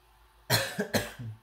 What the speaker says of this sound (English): Oh dear, I got a cough.